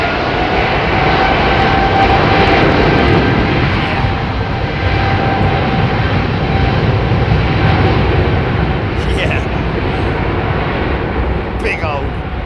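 A Boeing 777 jet airliner rumbles past at London Heathrow Airport with a loud, sustained roar that stays even throughout, while a person talks over it.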